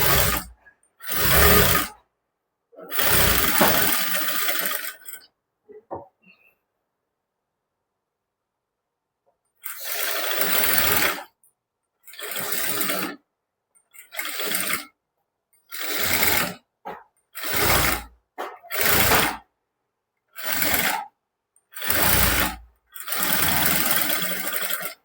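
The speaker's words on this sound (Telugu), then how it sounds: "లైనింగ్కి కుట్టు అన్నది వేసుకోవాలండి" Sewing machine stitching the lining of a prince-cut blouse, running in repeated loud bursts of rapid stitching separated by short pauses, with no talk.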